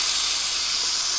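Boiling water pours into a pot of couscous in a Greek shrimp one-pot dish, giving a loud, close, steady hiss with no voices.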